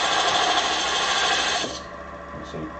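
A half-inch round gouge carving wood gives a steady, close scraping rasp that runs unbroken for about a second and a half, then stops abruptly, leaving quiet room tone with a brief faint knock near the end.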